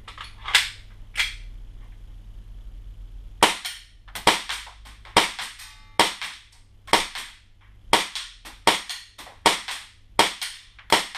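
A Cybergun Colt 1911 Mk IV airsoft pistol fires 0.20 g BBs from a long gas magazine charged with red Predator gas, sharp snapping shots in a quick uneven series after two early shots, close and loud.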